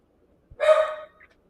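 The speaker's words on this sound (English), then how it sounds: "that dog freaked out" A single sharp dog bark rings out once, close and loud against silence.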